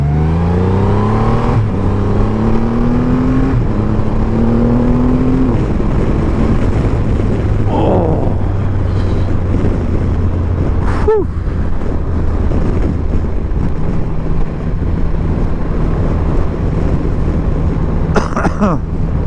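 A 2020 Triumph Rocket 3 GT motorcycle pulls away under a loud rush of wind across the microphone, its engine note climbing through several rising gear pulls before settling into a steady cruise, with brief coughs or throat noises but no talk.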